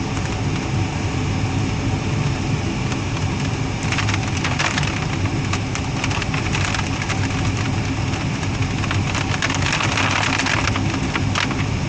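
Steady rain drums on the canopy of a glider in a video game flight simulator, a dense continuous patter and hiss that holds close and loud from start to finish, with no voices.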